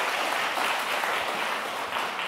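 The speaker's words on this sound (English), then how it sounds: "Applause." An audience at a Riga conference applauds after a keynote speech. The clapping is steady and even, sounds somewhat distant and soft, and lasts a couple of seconds.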